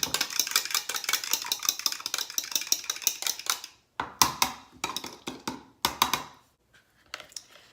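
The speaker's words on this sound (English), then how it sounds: "I'm gonna go ahead and beat my eggs up" Eggs beaten briskly in a bowl for keto fathead pizza dough, a fast rhythmic clatter of whisk or fork against the bowl, close and steady for about four seconds, then broken into shorter bursts with pauses.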